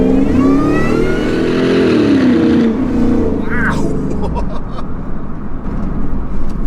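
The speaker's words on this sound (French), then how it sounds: "ça gueule, le compresseur il gueule" A supercharged V8 Ford F-150 Lightning pickup accelerates hard, its engine loud and close with a rising whine and roar that eases off after a few seconds; a voice speaks over it.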